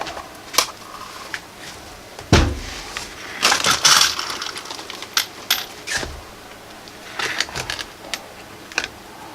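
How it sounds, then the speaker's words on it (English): Rivets being set to join two pieces of a Kydex holster: several sharp, close cracks and snaps with short bursts of crunching in between, ringing out clearly against a quiet workshop background. "I'm just gonna rivet those 2 together so that way it stays in place while I work on the rest of this"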